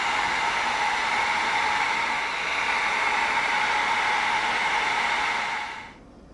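A heat gun blows hot air to seal EVA foam for a prop M3 Predator gun, a steady close hiss and whoosh with a faint whine that runs for almost six seconds before cutting off.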